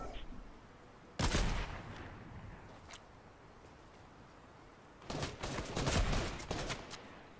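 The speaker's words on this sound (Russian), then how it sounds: "Правые еще стреляют." Gunfire in a Fortnite match: two loud bursts of rapid shots, a short one early and a longer, denser volley near the end, separated by a quieter stretch with faint ambient game noise.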